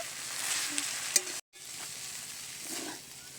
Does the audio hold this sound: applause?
no